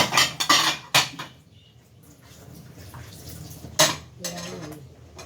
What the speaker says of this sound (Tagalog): hugasan muna natin yung ating hugasan